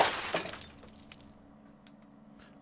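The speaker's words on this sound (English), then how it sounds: "The tremendous crashing sound, the ball shattered against my father's head." In a visual novel game, a glass bottle swung onto a man's head shatters in one loud crash. Scattered tinkling follows and fades over a low, steady background hum.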